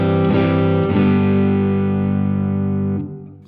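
An electric guitar chord rings out through a Spaceman Effects Equinox EQ pedal with the low end boosted, sounding full and sustained before it fades and cuts off.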